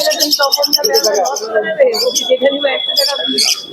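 Birds at a rural bird market in Shantipur, where pigeons are sold, give chirps and calls through steady nearby chatter from buyers and sellers.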